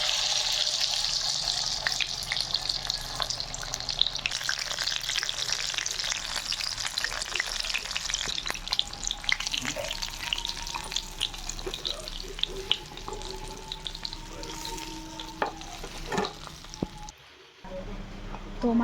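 Salted hilsa fritters wrapped in ash gourd leaves fry in a pan on low heat, a dense continuous bright sizzle with occasional clinks and bubbling, faint talk underneath.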